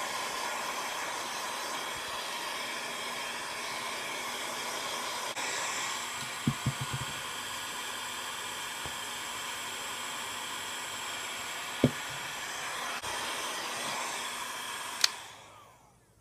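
A hair dryer blows steadily on a Distress Oxide ink swatch, a constant close whooshing drone with a few faint knocks before it switches off near the end.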